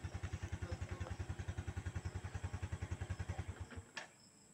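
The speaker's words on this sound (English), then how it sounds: "let's see if the engine will stop" A motorcycle engine idles with a steady, fast chugging pulse up close, then sputters and cuts out, leaving a brief click and near silence.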